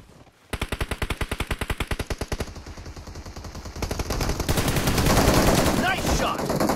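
Rapid automatic gunfire in PUBG Mobile arena mode, a fast steady burst of close, loud shots followed by a denser wash of overlapping fire and game noise.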